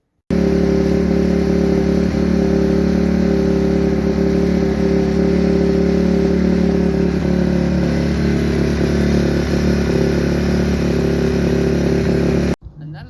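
A 2008 Kawasaki KX250F dirt bike engine runs at a steady idle, loud and close, with oil freshly changed, then cuts off abruptly near the end.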